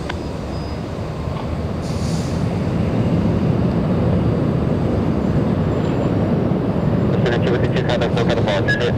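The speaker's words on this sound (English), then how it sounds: "That right there is Delta Airlines 424 heading to Minneapolis. It's an A321." A Delta Airlines Airbus A321 jet departing Los Angeles International Airport makes a broad, steady roar that swells and holds throughout, heard at a distance, with a few brief clicks near the end.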